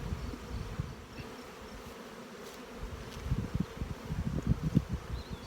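Honey bees buzz around an open hive during inspection, a close, fluctuating drone that swells and thickens toward the end, with faint rustling beneath.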